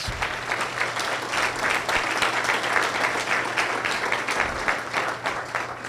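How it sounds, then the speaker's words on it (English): An audience at a District 3 community meeting breaks into sustained applause, a dense, even patter of many hands throughout, with a low steady hum in the room underneath. "Will you please give them a round of applause?"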